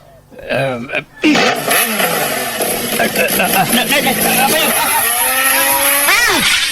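A motorcycle revs and surges close by in bursts, its whining engine rising and falling in pitch over a sustained drone. People shout and talk loudly over the engine noise throughout.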